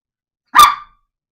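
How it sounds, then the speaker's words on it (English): A single sharp dog bark, close and loud, with a quick fade and no other sound around it. "She's just barking in the corner of my bed."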